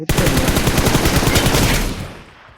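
Rapid automatic gunfire in the PUBG video game, a loud close burst of evenly spaced shots lasting nearly two seconds before trailing off.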